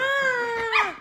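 A dog lets out a drawn, wavering whine that breaks into a short yelping bark at the end, loud and close, with no talk over it.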